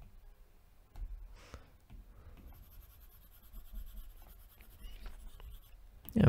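A stylus rubs and scratches across a tablet screen while erasing in the Procreate drawing app, giving soft, close, intermittent strokes with brief pauses and no talk.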